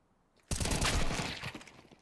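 Counter-Strike gunfire on the Vertigo map erupts suddenly after a half-second of quiet into a loud, dense burst of rapid shots that rattles on and fades slightly toward the end, with no talking.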